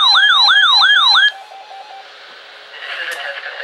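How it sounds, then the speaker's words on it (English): Emergency Alert System warning tone from a NOAA weather radio, a loud two-tone warbling alarm for about a second and a half that cuts off abruptly, followed by quieter background noise. "This is a test of the emergency alert system and NOAA weather radio's warning alarm"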